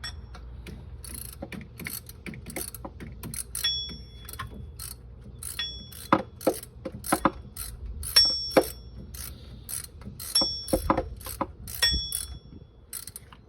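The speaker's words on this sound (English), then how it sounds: "Let's get this alternator bolt tight here." A ratchet tightening the alternator bolt on a Honda Pilot in the cramped engine bay, rapid clicking bursts in repeated short strokes with metallic ticks, close and clear with no talk.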